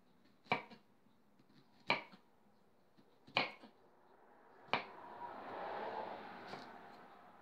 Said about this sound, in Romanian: Așa că noi o să tăiem ceapa